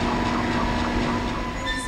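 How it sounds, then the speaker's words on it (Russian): Damaged mine cart rolling on rails in the video game Dead Space, a continuous loud metallic rumble with faint squealing tones, heard alone without talk. "Замена поврежденной вагонетки."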